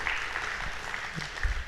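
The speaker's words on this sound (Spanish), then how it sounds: "Un aplauso a Carlos, por favor." A room of Catholic musicians at a diocesan gathering in San Pedro Sula, Honduras, applauding a long-serving choir musician: brief, steady clapping with a few low thumps, cut short.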